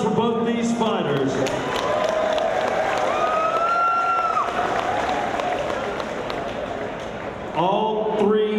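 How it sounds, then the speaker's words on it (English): A fight-night arena crowd applauds and cheers both fighters after a bout goes the distance. The roar of clapping runs steadily under a loud, amplified voice speaking over it. "Round of applause for both these fighters."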